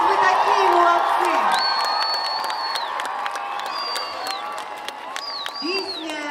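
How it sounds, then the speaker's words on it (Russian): Theatre hall audience cheering and applauding, sustained and fairly loud, with shouts and high whistling tones rising over the clapping. "И давайте сейчас не скупиться на аплодисменты."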